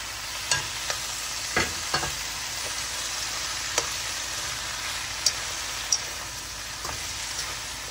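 Noodles with tofu being stir-fried in a pan for a vegetarian Binh Dinh-style dish, giving a steady low sizzle with scattered sharp clicks and scrapes of a utensil against the pan, close by and with no talking.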